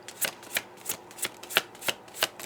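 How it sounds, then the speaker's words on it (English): Tarot cards shuffled by hand in quick, regular bursts, about eight crisp riffling strokes spaced evenly, close up and fairly quiet with no talking. "I'm being told to stop shuffling"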